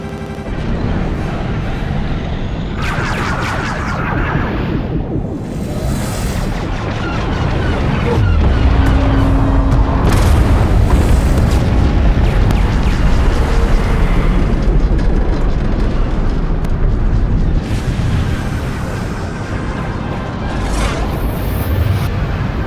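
Loud, continuous starship battle from Star Wars: The Old Republic, Knights of the Eternal Empire, with the Eternal Fleet under fire: heavy booms and crashing explosions roll one into another over a dense rumbling bed.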